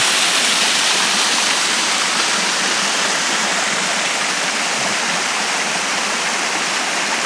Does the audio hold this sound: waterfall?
yes